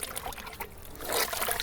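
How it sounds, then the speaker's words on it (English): Wet linen beaten with a battledore lets water trickle and splash out in short uneven spurts, close and fairly quiet, the dribbling swelling toward the end. "You can see the difference in how fast the water comes out"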